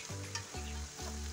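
A breakfast pastry made of grated carrot and flour fries in a pan with a steady, loud sizzle, broken by three rhythmic low thumps as it is moved about.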